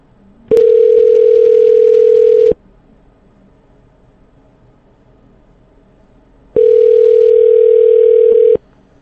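A telephone ringing tone on an outgoing cold call, heard as two long steady tone bursts of about two seconds each, separated by a quiet pause.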